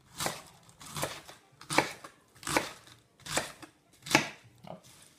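A knife chops cabbage into roughly one-centimetre slices, about seven evenly spaced crisp cuts falling close and clear on a board in a quiet kitchen.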